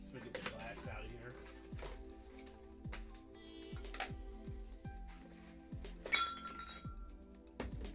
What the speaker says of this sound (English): Let's get the glass out of here.